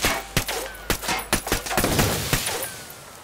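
A string of sharp gunshots in the video game Ghost Recon Wildlands, about eight, cracking at uneven intervals over a low steady hum, with a brief burst of rapid fire midway.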